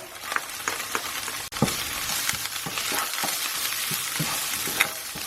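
Ginger and garlic hitting hot oil in a pan for a pepper beef stir-fry, a steady crackling sizzle with occasional louder spits and stirring scrapes, close and continuous.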